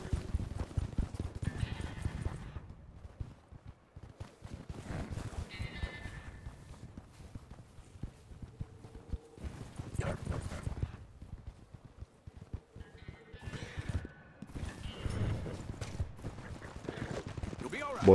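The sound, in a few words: white Arabian horse hooves in Red Dead Redemption 2 video game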